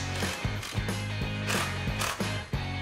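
Cedar 2x4 garden bench rails being fastened to the legs, giving a run of repeated clicking, ratcheting mechanical bursts at close range with short pauses between them, with no talk.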